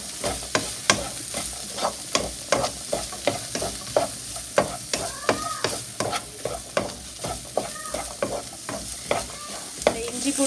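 Mixed vegetables for puff filling fry in a pan with a constant soft sizzle, broken by regular scraping stirs of a spoon against the metal roughly every half second, close by and without talk.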